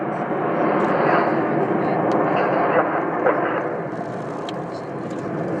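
Jets of an aerobatic display team roaring over the RIAT airshow at Fairford, a loud sustained engine rumble rising and falling as they pass, with a public-address announcer talking over it.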